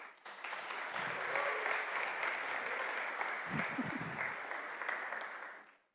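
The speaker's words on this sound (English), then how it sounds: "So big round of applause to all the JS communities." Sustained applause from a sizable crowd, a steady wash of many hands clapping for several seconds before fading out at the end.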